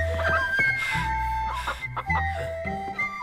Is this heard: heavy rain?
no